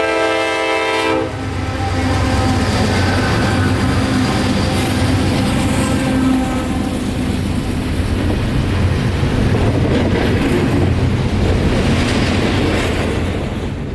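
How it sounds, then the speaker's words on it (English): A CSX Q178 intermodal freight train passes at night in Lakeland, Florida, its horn sounding loudly at first before the steady, close rumble and clatter of rolling cars fills the rest, with no talking. "Last train of the night was the one I was waiting on originally, CSX Q178."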